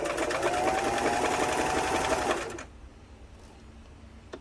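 A Singer 328k sewing machine runs a short zigzag stitch with a loud, steady mechanical chatter for about two and a half seconds, then stops and leaves a quiet room.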